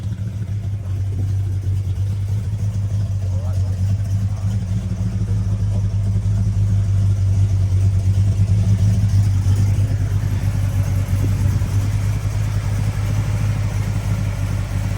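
A 1971 Ford Torino GT convertible with a 429 Cobra V8 and four-speed runs steadily, a deep low rumbling idle with a slight swell in the middle, loud and close, heard alone.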